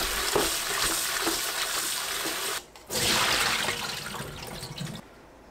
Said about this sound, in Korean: 우렁이를 물로 한번 헹굽니다